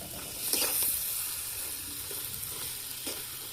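Fried brinjal is mixed in a sizzling pan, with a steady close frying hiss and a few stirring scrapes. There is no talk.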